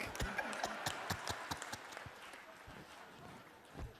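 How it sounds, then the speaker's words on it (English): Members of the National Assembly clapping for a newly voted President of the Republic, a scattered, uneven applause of distinct claps that thins and fades toward the end. "we're clapping hands for Shenge because he has been just voted the President of the Republic"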